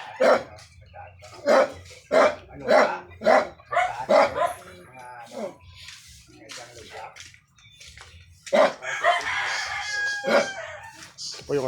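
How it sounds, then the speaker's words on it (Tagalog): A dog barks in a rapid run of evenly spaced barks, then again later, while fighting roosters crow nearby and a voice speaks briefly. "Ito po yung aso natin, tumatawol po."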